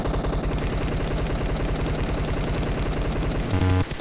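Rapid bursts of automatic gunfire in a shooting video game, a dense rattling stream of shots at close range, ending in a brief louder tonal game sound.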